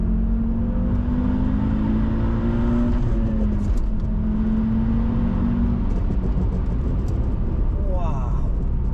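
An Audi RS2, the first Audi RS car, accelerating hard with a loud, close engine roar whose pitch climbs, falls away, and then climbs again. A steady rumble carries under it throughout.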